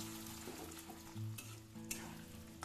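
Boiled, peeled potatoes frying in a pan, a soft, quiet sizzle with a few scraping stirs, and a low background hum underneath.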